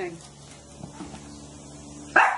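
A dog gives a single sharp, loud bark near the end, following a stretch of quiet room tone with people talking.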